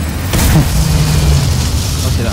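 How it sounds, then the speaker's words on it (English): A boom and burst from an explosion in the video game Dishonored, loud and close, with a low rumbling tail that lingers under an excited voice. "Explosions!"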